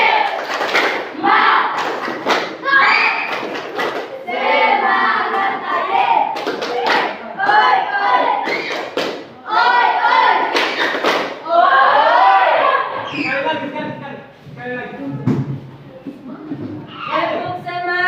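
A school class performs a rhythmic spirit clap, sharp bursts of hand claps in patterned beats alternating with loud group chanting and voices throughout.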